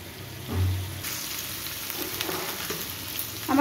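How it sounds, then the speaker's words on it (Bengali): Mutton sizzles and fries in a pan as it is stirred, a steady crackling hiss with occasional scraping and stirring knocks, close and moderately loud. "এবার খুলেই এটাকে আর 3 থেকে 4 মিনিট কষিয়ে নেব।"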